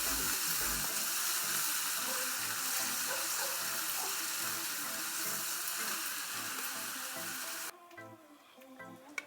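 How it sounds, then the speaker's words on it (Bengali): Ginger-garlic paste sizzles and fries steadily in oil in a pan for Bengali small fish curry, a loud continuous crackle that cuts off abruptly near the end, leaving faint clatter. "এগুলো না একটু ভালো করে ভেজে নিচ্ছি, যাতে কাঁচা গন্ধটা চলে যায়।"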